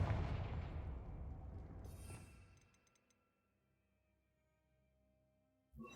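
A Confringo blasting spell detonates in Hogwarts Legacy, a loud booming explosion that decays over about two seconds into quiet, with a few faint crackles and a sharp hit near the end.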